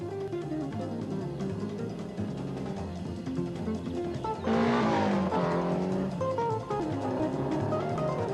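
A front-wheel-drive car accelerates hard, its engine revving loudly as the front tyres lose grip and understeer, with a rising surge of tyre noise midway through the run.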